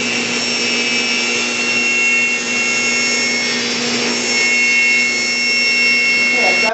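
A power saw cuts steadily through a wooden bed headboard held firmly on a sled, a loud continuous whine with a harder burst near the end as the cut finishes.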